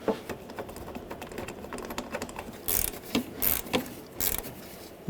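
Ratchet wrench snugging bolts on an A/C condenser of a 2007-2010 Chrysler Sebring: rapid clicking pawl bursts in short repeated runs, close up, interspersed with metallic clanks and no talking.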